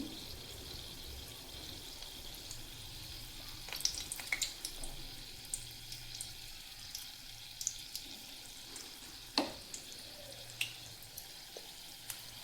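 Green chili bajji, North Karnataka style mirchi, frying in hot oil at medium heat, giving a steady low sizzle with scattered sharp pops and crackles as pieces go in one by one; no voices.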